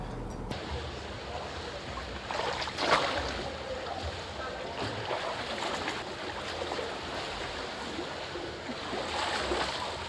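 Water in a nearly empty swimming pool at 5:30 in the morning gives a steady, rushing wash of splashing and lapping, with a few louder surges rising out of the constant noise.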